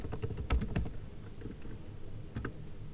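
Someone types PHP code on a computer keyboard, giving soft, close key clicks in uneven bursts, a quick cluster then scattered taps, quiet overall with no speech.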